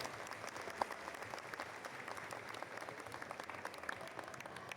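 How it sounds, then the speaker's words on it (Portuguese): Audience applause at an anime convention, a steady patter of many hands clapping at moderate distance, faint and continuous with no voices over it. "por favor, uma salva de palmas para Toshi Egashira"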